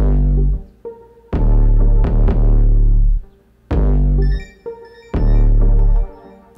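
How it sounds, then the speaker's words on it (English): A heavy 808 bass in a groove built on an MPC Live booms in long, deep sustained notes that decay between hits. Punchy percussion sits on top, with stops and restarts in a loud, close mix and no talking. "After I had a groove going, I added this nasty 808."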